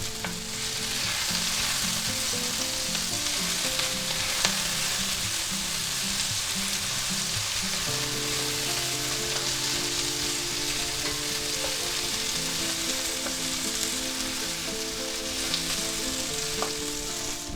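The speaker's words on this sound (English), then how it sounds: "Now stir fry them till your onions become just tender" Onions and celery sizzle steadily in a hot wok while stir-frying for chicken chow mein, with a constant crackling hiss and occasional stirring clicks, and no one speaking.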